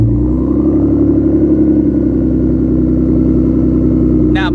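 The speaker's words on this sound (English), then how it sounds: "I love how you can hear the turbo now." A Ford EcoBoost turbo engine with its muffler deleted holds a steady, loud, close rumble near idle, with a faint rising turbo whine early on and a brief sharp rise right at the end.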